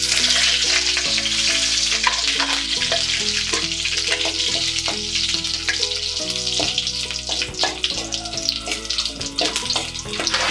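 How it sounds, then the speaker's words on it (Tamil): Mustard seeds crackle and sizzle in hot oil for a green rasam, a dense, loud frying hiss with scattered pops. A steady tonal background runs underneath throughout. "எண்ணெய் சூடாயிடுச்சு, கடுகு சேர்த்துக்கலாம்"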